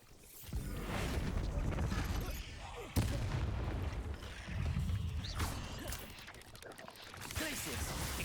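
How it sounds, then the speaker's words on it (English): The Bombarda explosion spell cast in Hogwarts Legacy, a sharp blast with booming, rumbling impacts amid ongoing combat noise, with a player calling out spells. "Bombarda."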